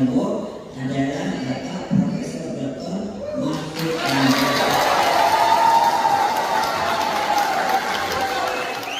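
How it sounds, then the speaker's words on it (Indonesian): PDIP East Java party cadres and supporters cheer in the hall of the DPD PDIP office on Jalan Kendang Sari, Surabaya. A voice talks over the first seconds, then a loud, sustained crowd roar of cheering and clapping takes over. "Tampik sorak dan euforia kader dan simpatisan PDIP Jawa Timur pecah di aula kantor DPD PDIP Jalan Kendang Sari Surabaya"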